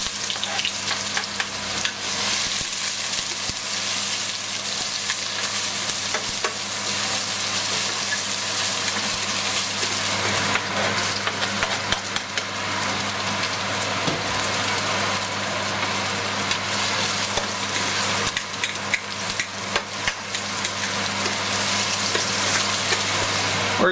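Shrimp and vegetables fry in a pot for callaloo, a loud steady sizzle with crackling bursts and occasional stirring scrapes, close and continuous with no talking.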